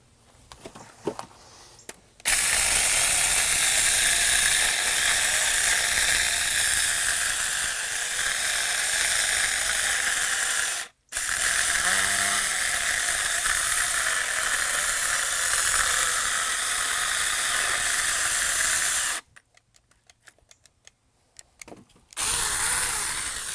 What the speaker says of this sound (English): We're gonna use some big logs so we can put some nice tension on this